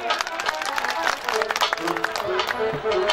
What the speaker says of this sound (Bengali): ওনাদের জন্য আপনাদের কাছ থেকে একটা করতালি যাচ্ছি